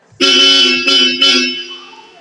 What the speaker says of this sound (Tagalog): Tapos yung busina niya, goods na rin